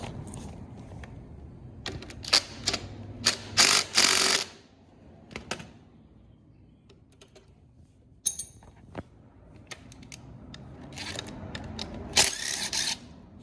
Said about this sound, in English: Need to put new bolts in this. Just tighten this side here.